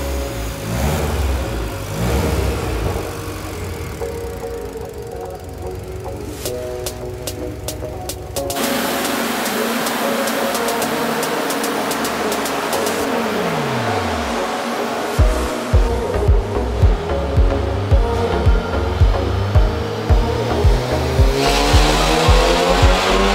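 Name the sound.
Colab Tuning VW Golf 7.5R engine revving loudly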